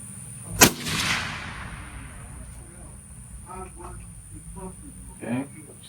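A Savage Axis Pro .25-06 rifle fires once at an outdoor range, a sharp loud crack near the start followed by a decaying echo, then people talk quietly afterward.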